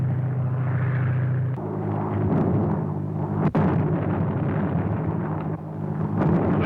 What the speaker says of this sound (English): Landing tear gas bombs all around them, but they don't seem to have any effect.